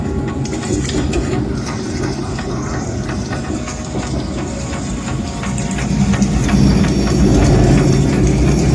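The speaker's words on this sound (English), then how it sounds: "This is a semi-fast Metropolitan line train to Watford." A London Underground Metropolitan line semi-fast train to Watford runs with a loud, continuous rumble and rattle of the carriage, and the roar swells stronger toward the end.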